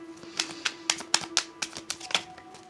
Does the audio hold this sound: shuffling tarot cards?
yes